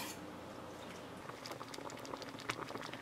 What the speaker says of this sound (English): You want to bring it to a boil and then let it simmer for about 5 minutes to thicken.